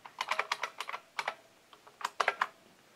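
Brisk typing on a DEC VT510 terminal keyboard, two close bursts of crisp, loud keystrokes with a short pause between them, no voices.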